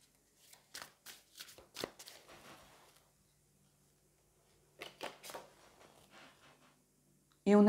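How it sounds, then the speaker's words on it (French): A deck of tarot cards is shuffled close up in quiet bursts, a quick riffle of crisp card flicks, then a pause before a second short run of shuffling. "on va aller prendre une deuxième carte"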